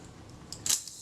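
A Retina Reflex type 025 camera is cocked and fired during a service, giving a few faint mechanical clicks and one sharper, brighter snap of the shutter in a quiet room.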